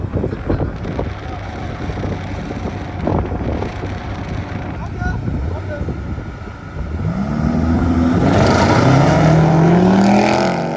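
Highly tuned high-performance cars race down an airstrip, engines building from a distant drone to a loud, rising roar near the end, with wind buffeting the microphone and voices talking over the early part.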